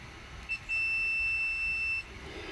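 Steady electronic beep from a multimeter continuity test across the tabs of a motorcycle fuse, one short chirp then a sustained tone of about a second and a half, clear over quiet background.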